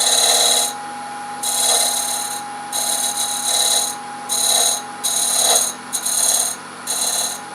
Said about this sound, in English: we're going to take our pyramid tool and just chamfer the end a little bit.